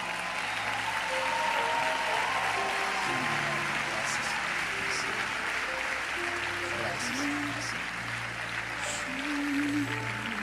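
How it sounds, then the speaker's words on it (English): A church congregation claps along during a service, steady dense applause throughout with music tones and voices underneath. "Come on, clap your hands. Clap your hands."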